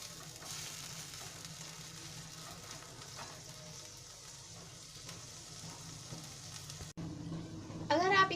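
Ghughni, a Bihari snack of spiced peas, cooking in a pan over a medium flame, with a steady soft sizzle and faint stirring scrapes, growing a little louder near the end.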